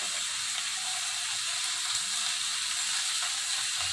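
Tomatoes sauté in hot oil in a pan for kurma, making a steady, close sizzling hiss that runs without a break, with faint stirring underneath and no talking.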